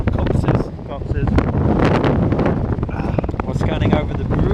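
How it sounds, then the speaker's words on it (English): Strong outdoor wind buffets the microphone with loud, rough rumbling gusts that rise and fall throughout, and a person's voice is partly heard beneath the roar. "it's so windy"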